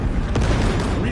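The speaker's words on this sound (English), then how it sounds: "Throw the frag grenade!" Frag grenade detonating during a Warhammer video game battle against a xenos swarm, a single deep booming blast amid dense, loud game noise that rumbles on for about a second.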